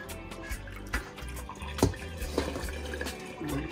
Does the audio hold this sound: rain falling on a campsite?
no